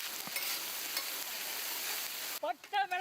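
Snails fry in a pan with a steady crackling sizzle, close up; a voice cuts in briefly near the end.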